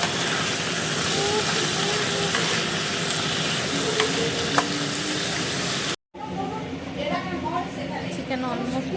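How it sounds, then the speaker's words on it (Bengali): A pan of chicken fries hard with a loud, dense, continuous sizzle for several seconds, then cuts off abruptly to quieter sputtering under a voice. "এখন এতগুলো ভাজতে হবে।"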